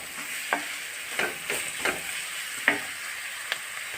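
Sliced onions fry softly in a pan while a spoon stirs them, producing a quiet continuous sizzle with a few sharp scraping clicks spaced a second or so apart.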